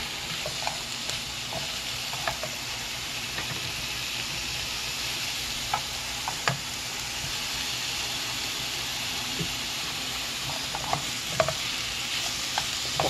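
Watermelon rind stir-frying in a pan gives a steady close sizzle and hiss, broken by scattered clicks and scrapes of stirring, with no talk.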